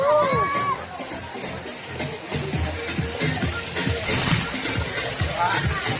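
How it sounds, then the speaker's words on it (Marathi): Water park waterfall pouring down from above, a steady splashing rush that carries through the whole stretch under a lively crowd with whoops and voices. "वरतून धबधबा पण कसला येतोय बघा."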